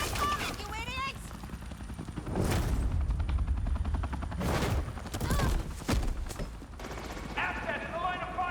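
Police gunfire in Batman: The Telltale Series game, several sharp bursts of shots and booms cutting through shouting voices and background action.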